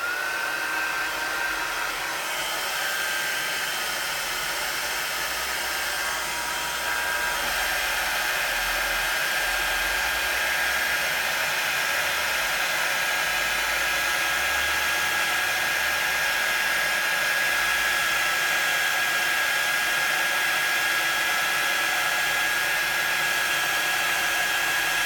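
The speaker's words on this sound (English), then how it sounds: "So it's going to get a little bit noisy, so just bear with me whilst I do these three pieces." A handheld heat tool runs continuously while heat-setting embossing powder on papercraft pieces, a steady, close, loud blowing whir with a faint high whine, holding level for the whole stretch with no talking.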